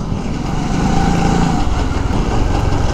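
A Euro Motor Rapido 110 motorcycle out on a ride gives a steady, fairly loud engine drone with road and wind noise, holding a constant pitch throughout with no talking.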